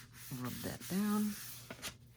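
Rubbing down a handmade paper tag for a woodland creatures and mushroom journal, brief close scuffing and pressing strokes mixed with a little voice.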